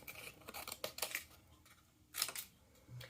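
Scissors snip through paper while trimming pieces for a Mother's Day collage card, with several quick close cuts in an irregular rhythm, quiet and without talk.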